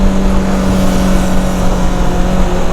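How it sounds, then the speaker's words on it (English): A Honda CB500X twin-cylinder motorcycle engine runs with a loud, steady, buzzing drone and a strong low hum, close by and without talk. "All these are twin cylinders, so very refined, very punchy as well, good in-gear acceleration, and most importantly, they sound brilliant too."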